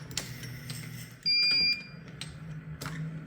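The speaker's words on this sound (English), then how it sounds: "We've got audible alarm, even on an automated press" A Mark 7 reloading press powder check alarm sounds a steady electronic tone for about half a second, signaling a double charge, over faint mechanical clicking and clattering of the automated press, close by.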